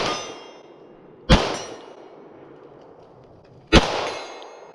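Two sharp Staccato pistol shots ring out at long range, each followed by a distant metallic clang from a steel target, spaced a couple of seconds apart over quiet background.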